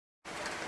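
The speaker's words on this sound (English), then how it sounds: "Look at the rain pour down now" Rain pours down on a baseball field during a Super League game, a steady dense hiss that starts abruptly after a brief silence.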